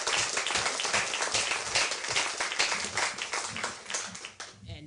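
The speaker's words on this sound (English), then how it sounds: "Another round of applause for all of our panelists" Audience applause for panelists at the close of a debate on the historicity of Jesus, hosted by a Toastmasters club, a dense continuous clapping that holds steady, then thins and fades in the final second.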